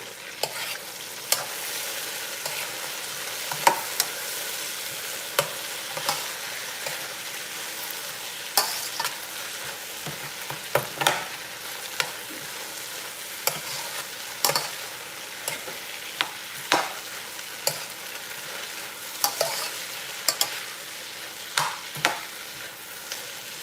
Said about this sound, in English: So everything is frying.